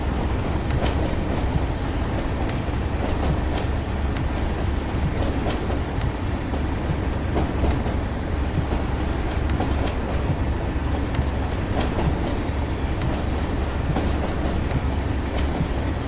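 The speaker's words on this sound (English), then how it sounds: "Now we are starting to pick up speed rather quickly" Locomotive on the Tees Valley Line in Train Sim World picking up speed, a steady loud rumble of engine and rolling wheels with rhythmic clickety-clack of rail joints throughout, continuous and close.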